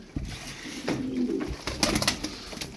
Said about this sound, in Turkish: Kanat sesi falan da güzelmiş.